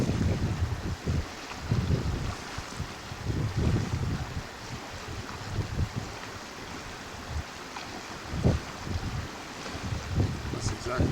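Outdoor wind gusts buffet the microphone in a low, uneven rumble that swells and fades continuously, with a faint watery wash beneath, near Sitka, Alaska.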